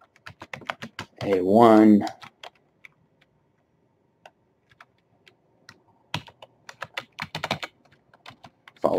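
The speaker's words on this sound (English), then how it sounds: "What we want to do is just type the word range" Quick bursts of typing on a computer keyboard give sharp, close clicks in irregular runs with pauses between them, and someone briefly speaks partway through.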